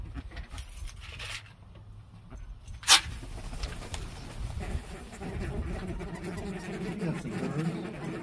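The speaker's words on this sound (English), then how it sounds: "Got some birds." White birds being fed bread outdoors, soft low cooing and fluttering over a steady background hum, with a brief sharp rustle partway through.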